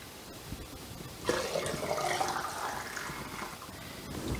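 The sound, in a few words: hot apple cider being poured into quart jars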